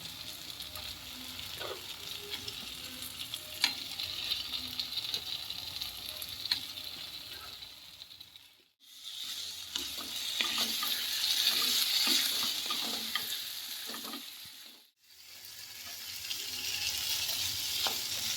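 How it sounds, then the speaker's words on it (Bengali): Paneer cubes sauté in thick masala in a pan for a Bengali-style dhaba paneer masala, a steady broadband sizzle with stirring scrapes, briefly cut off twice, with no talking. "এবার আমি পনিরগুলো এর মধ্যে একটু দিয়ে কষিয়ে নিয়ে তারপর জল দিয়ে দেবো"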